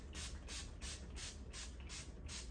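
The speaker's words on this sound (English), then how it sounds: "I just spray it on top and throughout the hair." Curl Boost hair product is sprayed from a pump bottle onto curly hair in about seven quick, evenly spaced hissing bursts, close and clear.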